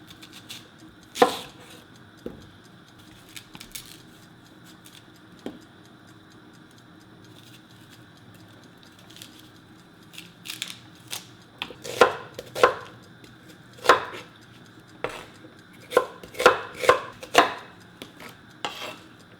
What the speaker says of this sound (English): Cut like coarsely. And green chili pepper too.